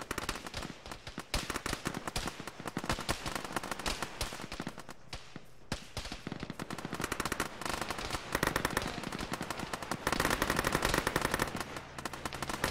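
Sustained machine gun fire from a military shooter game, dense rattling bursts overlapping almost without pause, loud and close throughout.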